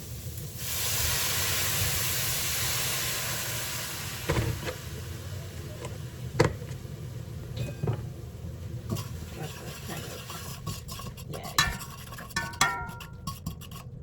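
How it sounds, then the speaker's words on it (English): Apple cider vinegar poured into a hot pan with onions bursts into a loud hiss that fades into steady sizzling, broken by small pops and clicks, with no talking. "I'm trying to deglaze this pan right here. So I'm gonna add a little of that apple cider vinegar"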